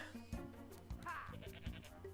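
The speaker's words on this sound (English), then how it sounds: "Gotta be careful with the goat." A goat in the Disney's Hercules PS1 game gives a few short, wavering bleats over background game music and effects.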